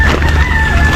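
Hen at a fish pond farm beside rice fields, giving a close, loud drawn-out vocal call, with steady low outdoor background.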